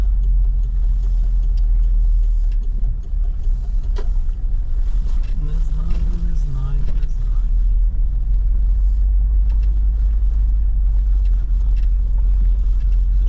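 A car drives along with a steady, loud low engine and road rumble throughout, and a faint voice surfaces briefly near the middle as it pulls in to park.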